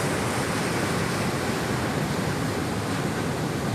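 Ocean surf washes onto a beach where people are fishing, a constant loud broadband roar of breaking waves and wind with no pauses.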